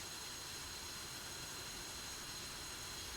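F-5E II Tiger jet engine in DCS World running after start-up, a steady broadband roar with a high whine, continuous and even throughout.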